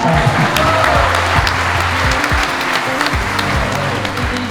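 A film screening audience applauds loudly and steadily, the crowd's clapping layered over a low, rhythmic musical bass line.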